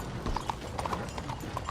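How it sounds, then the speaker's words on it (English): Horse hooves clip-clop at a walking pace in Red Dead Redemption 2, a steady series of close, moderately loud knocks over low ambient rumble. "I have my golden horse."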